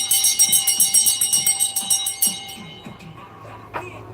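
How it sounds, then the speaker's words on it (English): A bright bell rings repeatedly in quick, steady strikes for about two seconds, then its metallic tone fades and decays with no talking. "let me ring this damn bell"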